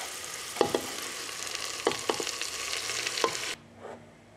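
Washed nettles drop into a pan of softened, translucent onions, setting off a loud sizzle with several sharp rustling stirs, then the hiss cuts to a faint simmer near the end.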